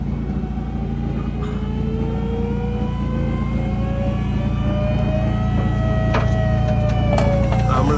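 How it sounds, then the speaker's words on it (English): Truck engine idling steadily while lowbed trailer hydraulics move, a loud, close, constant rumble with a rising whine sweeping upward over it. "The hydraulics are moving towards the rear, which is letting the front of the trailer sit down on the ground."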